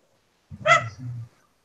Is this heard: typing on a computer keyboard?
no